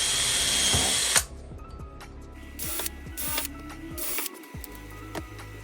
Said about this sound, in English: I'll use a drill bit that's just smaller than the shank of the screw to pre-drill the holes